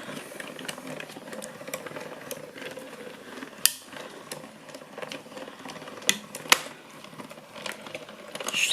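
A hand-cranked die-cutting machine rolls a card sandwich through with a steady mechanical grinding and ratcheting, close and alone, punctuated by a few sharp clicks.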